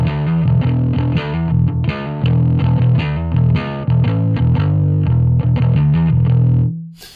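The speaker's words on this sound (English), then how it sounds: "if you crank the volume, it will add a bit of power amp distortion to the sound." A bass guitar through a Two Notes Genome 1.5 with the volume cranked plays a driven riff with gritty power amp distortion, loud and steady, then cuts off abruptly at the end.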